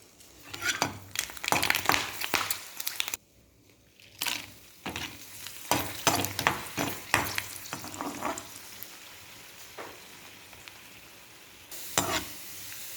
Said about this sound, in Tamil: நான் இந்த சுண்டைக்காய், வத்தலை, பாவக்காய், கத்திரிக்காய், மோர் மிளகாய் இதை பொரிக்கும்போது காட்டுறேன்.